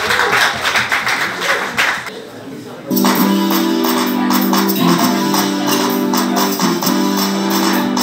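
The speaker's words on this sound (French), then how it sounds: "Donc on va prendre le temps de les applaudir" At a charity dinner in Brussels, an audience claps for dancers in busy, lively applause that fades after a few seconds, then loud music with sustained tones starts.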